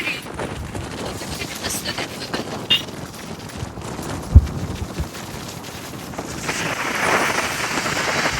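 Steady rain falls during a stop on a hill trek to Malang Gad, a continuous broadband wash with a few brief sharper knocks, and it grows somewhat louder near the end.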